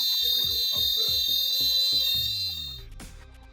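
A fire alarm from a Pearl control panel on a Type B demonstration board sounds in loud, rapid repeating pulses with a steady high tone, then stops abruptly and leaves a fading ring.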